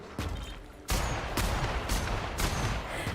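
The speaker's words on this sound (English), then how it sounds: "Sorry, not assault rifle, that heavy machine gun." A heavy machine gun firing in The Outer Worlds, loud separate bursts of shots at close range over a noisy background, coming roughly every half second to second.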